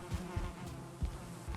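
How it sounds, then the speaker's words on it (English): Honey bees buzz near a hive in a short close pulsing drone, with low wingbeat surges as individual bees pass the microphone. "when the sun comes back out, you can hear them buzzing again"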